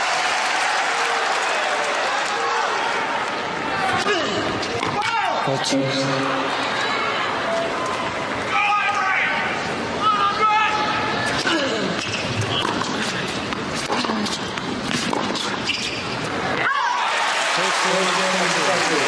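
A tennis crowd at a professional match between Agassi and Baghdatis murmurs, then bursts into warm applause that swells and fades in waves, with a commentator talking over the noise.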